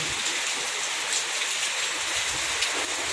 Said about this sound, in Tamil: இங்கே இப்போ எப்படி மழை பெய்யுதுன்னா சரியான மின்னல் அதோட இடி பயங்கரமாக இடிக்குது